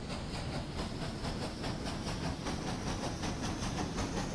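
Locomotive engine in the railway video game RailRoads Online runs in a steady, dense chugging rumble with hissing steam and faint rhythmic pulses, constant and fairly loud throughout, with no talking.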